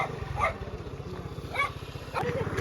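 A dog barks a few times over a steady low engine drone, likely a scooter idling nearby, with a person talking at the same time.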